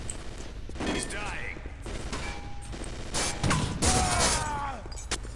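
Rapid gunfire in the video game Chaser crackles in bursts with mechanical clatter and whooshing effects during a port defence, under faint talk.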